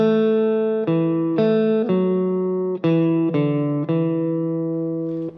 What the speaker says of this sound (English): Now onto the main theme, very simple notes.